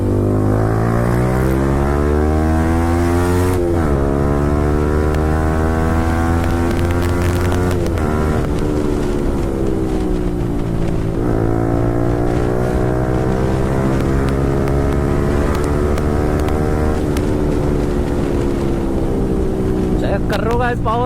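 A Yamaha R15 V4 motorcycle fitted with an Akrapovic exhaust revs and downshifts, a loud, steady engine drone with rising and falling pitch sweeps between gear changes.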